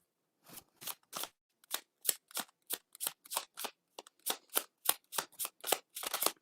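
Tarot cards being shuffled by hand, a steady run of crisp riffling snaps in quick succession, close and clear against silence.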